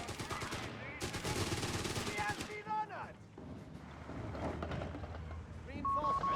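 Grenade launcher volleys and bursts of gunfire in the WWII strategy game Company of Heroes 3, with rapid cracking shots and blasts in clusters, a commentator's voice talking over the battle noise.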